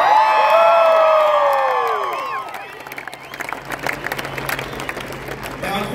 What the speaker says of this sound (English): What a crowd we've got here to enjoy the celebrations